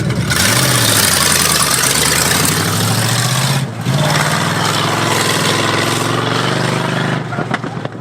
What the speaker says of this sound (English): This thing is cutting out bad in the back straights.